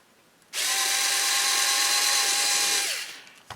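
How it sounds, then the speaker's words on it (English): A power drill drives a bit through a hole while building a Sig Somethin' Extra model plane, a loud steady whine that starts abruptly, holds for about two and a half seconds, then winds down. "Now get your drill bit in the center of the hole."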